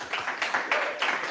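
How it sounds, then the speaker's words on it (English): A short burst of audience applause at a live show, with a few distinct clap peaks landing at roughly even intervals over a low background murmur. "Please, a big round of applause."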